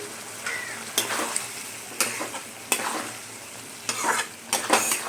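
Ghugni stirred in a hot, sizzling pan, a steady fry hiss under repeated sharp scraping strokes of a spoon against the metal, spaced about a second apart.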